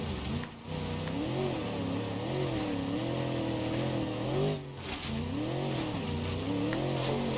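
A car in the BeamNG.drive video game drives with a steady engine drone that rises and falls in pitch as it accelerates and eases off, continuous and loud, with a brief dip near the start.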